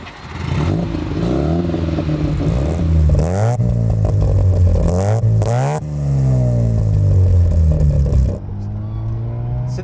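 A 1972 Mazda RX-3 with a 12A rotary engine runs loud and close, its engine note rising and falling through several revs with a raspy, buzzing edge, then settling to a steady idle near the end.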